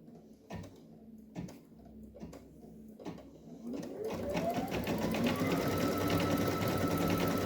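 A computerized embroidery sewing machine starts with a few separate clicks and knocks, then spins up and stitches at maximum speed, a steady rapid rattling hum that builds and holds through the end.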